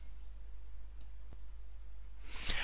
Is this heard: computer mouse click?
yes